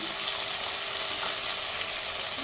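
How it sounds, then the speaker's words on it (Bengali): Potatoes and Malabar spinach stems fry with turmeric in a pan, giving a steady, close hiss of sizzling oil that runs unbroken with no talk. "আলু আর পুঁই ডাঁটা মোটামুটি সাঁতলানো হয়ে গেছে"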